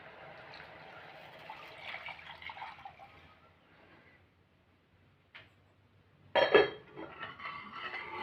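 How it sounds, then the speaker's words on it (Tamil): Ground coconut milk is poured into a cooking pot for ragi thengapal kolukattai, making a soft, quiet trickle of liquid and then a sharp clink of the vessel followed by a louder splashing pour. "தேங்காய் பால் அரைச்சி வச்சுருக்கோம், அதையும் ஊற்றிடலாம்."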